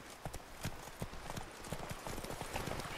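Roach, the horse in The Witcher 3: Wild Hunt (Blood and Wine), gallops with steady rhythmic hoofbeats, close and continuous over a dense game-world background.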